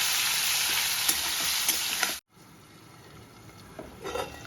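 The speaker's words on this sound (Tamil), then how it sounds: "இப்போ நான் எண்ணெயில் போடுறேன்" Food sizzles steadily in hot oil in a home kitchen, a bright continuous hiss that briefly cuts off, then resumes more quietly with a few soft clinks.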